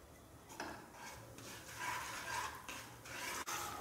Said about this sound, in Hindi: और थोड़ा सौते करेंगे।